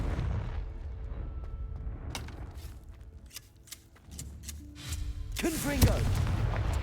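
A magical fire-blast spell in Hogwarts Legacy goes off in a burst of sharp booms and crackling impacts, mixed with game ambience and a brief voice.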